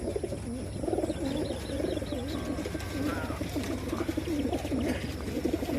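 Male racing pigeons coo steadily and up close at the finish of a Novaliches club last-lap fun race released from Pinamalayan, Oriental Mindoro, their throaty, rolling coos repeating in overlapping rhythm.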